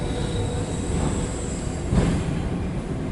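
A loaded CSX autorack freight train rolls past eastbound with a steady roar of wheels on rail, fairly close and continuous, with one brief thump midway and no talk.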